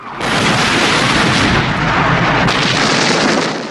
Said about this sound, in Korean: 그리고 그때 폭격이 떨어지기 시작합니다.